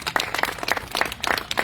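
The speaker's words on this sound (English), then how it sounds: "A big round of applause for them if we can." Scattered applause from a small audience at an Armed Forces Day program in Delavan, Wisconsin, individual claps distinct and uneven rather than a dense roar, moderately close.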